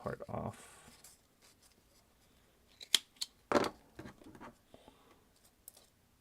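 Scissors snip through craft material in a few crisp cuts, with soft rustling between them, at a live crafting event where voices talk faintly.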